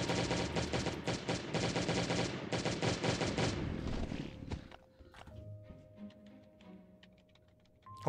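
Rapid bursts of gunfire aimed at turrets in Last Day on Earth: Survival, dense and loud for about four seconds before cutting off to quieter scattered game clicks and a faint hum.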